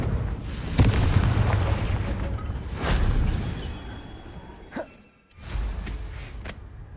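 Confringo spell blasts in Hogwarts Legacy land as several sharp booming bursts, one near the start and others spaced a couple of seconds apart, each trailing off into rumbling ambience.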